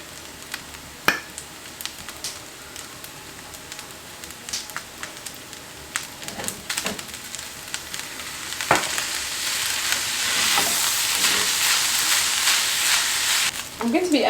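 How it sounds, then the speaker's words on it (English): Light soy sauce hitting garlic butter fried rice in a hot pan, sparse clicks and stirring first, then a loud hissing sizzle swells and holds for several seconds. "I'm adding light soy sauce."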